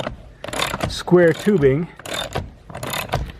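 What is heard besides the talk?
wrench turning a Loctited bolt on a welded nut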